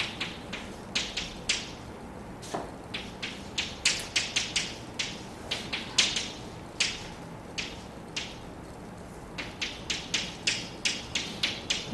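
Chalk tapping and scraping on a blackboard during a physics lecture on quantum mechanics, a steady run of short, sharp, fairly close strokes in irregular rhythm, with no talking.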